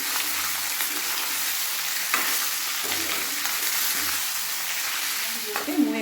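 Half a kilo of broiler chicken fries in a pan and is stirred, giving a loud, constant hiss of frying with a few scraping strokes near the end.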